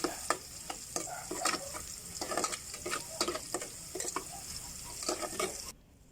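Sliced ginger sizzles in a frying pan for a mussel dish, a constant crackle with repeated scraping stir strokes, close and clear, cutting off abruptly at the end.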